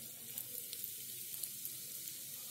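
Turmeric powder sizzling in two big spoons of hot oil in a pan, with asafoetida, while cooking a suran (elephant foot yam) masala dish; a soft, steady crackling hiss runs throughout, faint and unbroken, with no voices.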